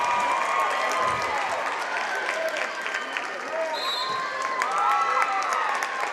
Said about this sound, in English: South Tama's crowd going nuts